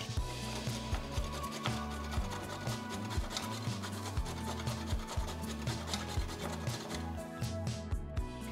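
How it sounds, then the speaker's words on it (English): Carrots, peeled with ends trimmed, rubbed against a grater for a fresh salad, giving a steady, close rasping rhythm of repeated strokes throughout, with music playing underneath. "I've taken 2, cut off the ends, peel the carrots and grate them."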